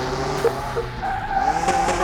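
In Car Mechanic Simulator 2021, a car fitted with new grabby brakes stops hard at low speed, its tires squealing and skidding over a steady engine hum, close and fairly loud, with no voices.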